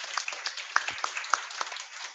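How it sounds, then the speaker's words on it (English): A round of applause from an audience at a live talk on whistle-blowing, with sparse, irregular claps and a few sharp louder ones standing out over a soft, steady background of clapping. "Let's give him a round of applause and welcome Joe."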